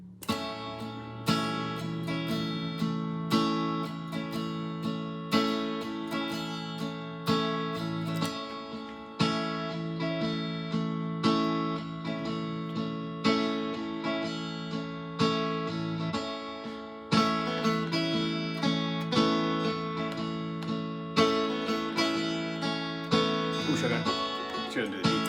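Electric guitar strumming chords with a chorus effect layered over a lead part, steady rhythmic strums ringing continuously and close, with no talking.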